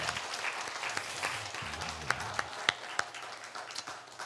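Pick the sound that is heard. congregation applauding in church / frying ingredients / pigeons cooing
congregation applauding in church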